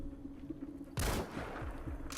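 A single sharp sniper rifle shot in Metal Gear Solid V cracks loudly about midway, standing out abruptly against a low, quiet game background, followed by a short decaying tail.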